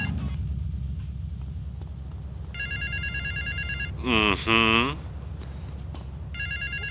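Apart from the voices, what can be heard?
telephone ringing in video game GTA Vice City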